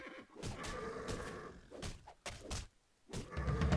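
A horse neighs in the Titan Quest video game, a fairly quiet game scene with whinnies and scattered thuds in separate bursts separated by short pauses.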